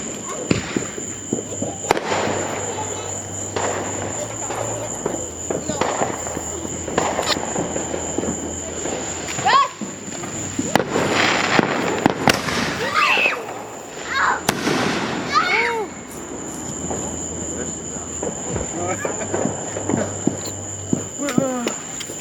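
Fourth of July fireworks bursting outdoors at night in a backyard display, with repeated sharp booms and crackles scattered through the stretch while people chatter and call out nearby.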